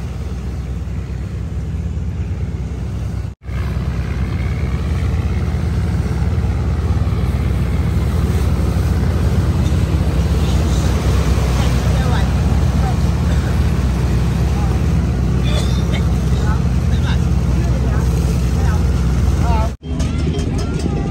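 Fishing boats in a convoy heading out to sea for a Vietnamese whale-worship festival, their engines droning in a steady low rumble with wind and water wash, continuous throughout, while a voice talks over it.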